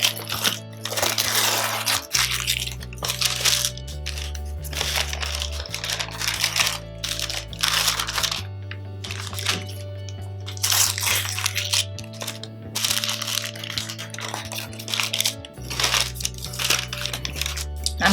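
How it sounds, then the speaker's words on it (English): Packaging of a frozen chocolate fridge cake crinkles and crackles up close as it is opened, in repeated bursts of rustling with brief pauses between them. "Now let's open up the package."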